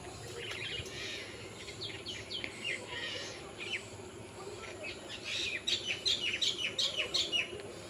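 Pigeons chirp and coo nearby in short bursts, growing busier toward the end, with a steady low background hum and no speech.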